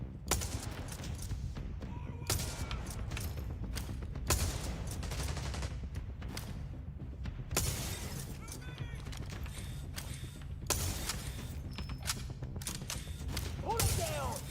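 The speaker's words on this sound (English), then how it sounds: "Keep them covered while they move! Laying down suppressive fire!" Dense suppressive gunfire in the shooter game The Division Resurgence, a continuous rattle of rapid shots broken by loud bursts every couple of seconds, with mechanical clanks throughout and no speech in the clip.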